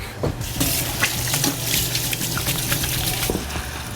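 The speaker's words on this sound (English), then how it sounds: "And wash my hands real quick." Hands are washed under a running kitchen tap, a steady close splash of water lasting a few seconds with no voices.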